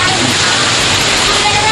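Heavy rain falling near Thalavadi, Sathyamangalam, makes a dense, loud, unbroken hiss that fills the whole clip.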